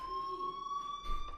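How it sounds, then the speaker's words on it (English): A fire alarm in the video game Life is Strange sounds as one steady, continuous high electronic tone, clear and unbroken, with no talking over it. "Hey, do you hear that fire alarm? That means you should be outside."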